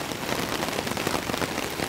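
Heavy rain drums steadily and loudly on a tent during stormy camping, a dense, even patter close overhead with no voices.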